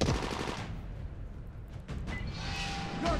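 Rapid automatic gunfire in the zombie game Dying Light rattles in a dense burst at the start, then fades into quieter scattered shots and background rumble.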